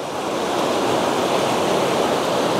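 A forest stream rushes steadily beside a mushroom-picking spot. The broad water noise is loud and close, with no talk over it.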